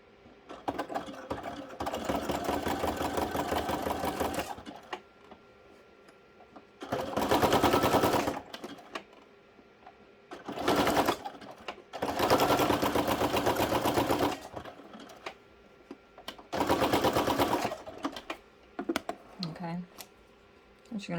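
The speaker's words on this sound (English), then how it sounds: "this one actually I'm going to sew now" Home sewing machine running a zigzag stitch on craft journal tags, in four or five loud bursts of rapid mechanical stitching a few seconds long, separated by pauses with faint handling noise.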